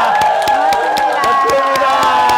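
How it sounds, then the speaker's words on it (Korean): A crowd at the close of a family education gathering claps in a steady rhythm over sustained music, with cheers and shouts mixed in; the sound is loud and lively throughout. "여러분 큰 박수 함께 좋습니다"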